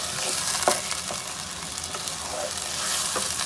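Beef pieces fry with ground garlic and ginger in a karahi, giving a steady close sizzle with occasional stirring scrapes and small pops.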